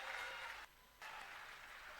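Audience applause at a party booth workers' rally in Khajuraho, a loud, dense clapping wash that drops away briefly midway, then resumes just as strongly.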